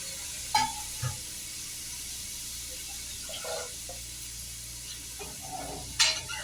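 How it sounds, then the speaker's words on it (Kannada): Chopped sour tomatoes sizzling in a hot pan for toor dal and bean sambar, a soft steady hiss with a few clinks and scrapes of a stirring spoon, close and without talk. "ಈಗ ಟೊಮೆಟೊ ಹಾಕಿದ ನಂತರ ಸ್ಟೌವಿಂದ ಈ ರೀತಿ ಬಳಸ್ಕೊಬೇಕು"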